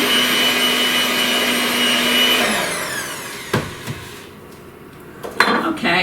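An electric mixer whirs through butter and confectioner's sugar frosting at a steady pitch, then winds down and stops, followed by a few clanks of beaters and utensils against a bowl.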